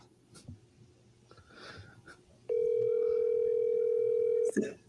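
A phone on speakerphone gives off a steady electronic tone about two seconds long, loud and close, over breathing and faint background noise in a cocktail lounge; a voice speaks briefly before the tone begins.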